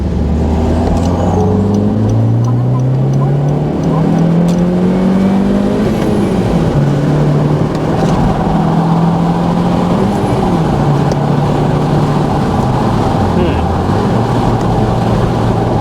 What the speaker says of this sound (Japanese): ちょっと合流加速していきます。